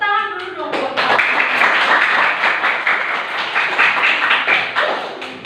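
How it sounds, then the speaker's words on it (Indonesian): A room of children clapping their hands together in a lesson, a loud, steady burst of applause that runs for several seconds and then fades slightly at the end. "tepuk tangan dulu dong"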